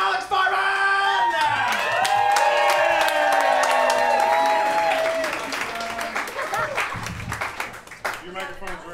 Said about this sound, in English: keep that energy going for the crowd work duo, Nash Park and Alex Forman.